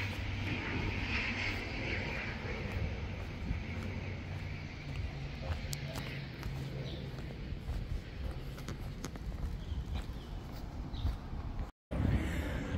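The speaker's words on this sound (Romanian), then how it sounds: "Un avion vine spre aterizare." An airplane comes in to land over a quiet village street in Nouméa, New Caledonia, its engine a steady, moderately loud drone and rumble sustained throughout, with a brief cut near the end.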